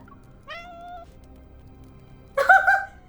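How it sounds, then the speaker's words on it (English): Thin, trembling kitten in a video game giving two short meows, a brief clear cry followed after a pause by a louder, slightly wavering one, with quiet background otherwise. "A thin, trembling kitten emerges from the corner and eats happily."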